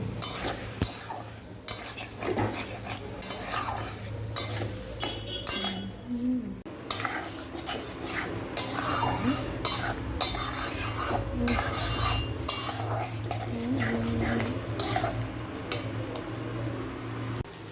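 A utensil scrapes and stirs spices for paneer around a pan in busy, irregular strokes, with a faint sizzle of frying underneath and no talking.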